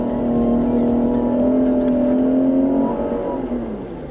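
A 2019 Jeep Cherokee's Pentastar 3.2 engine revving close up, a loud rising whine held for a few seconds before falling away as the revs drop.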